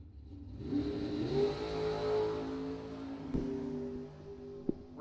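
A dragster at a drag racing bracket event revs and accelerates, its mid-pitched engine roar swelling and sustained with a sharp pop near the end, no talk over it.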